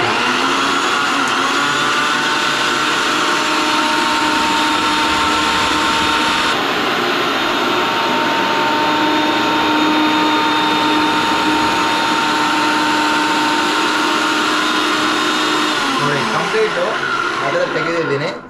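An electric coconut grater runs in a home kitchen with a loud, steady motor whine and grinding hum that holds for the full length, close up, then winds down at the end.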